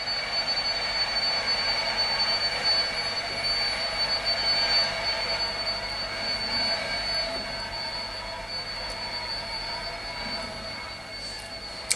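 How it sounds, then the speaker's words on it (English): A loud train passes outside, a steady broad rumble and roar that holds for the whole stretch with a faint high whine above it, continuous and without pauses. "Apologies for the really loud train outside."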